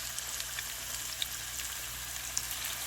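Battered tempura shrimp frying in hot oil, a steady close sizzle scattered with small pops and crackles throughout.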